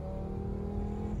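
A Volvo 850's five-cylinder engine revs briefly at moderate loudness, a steady throaty hum with a slight rising pitch.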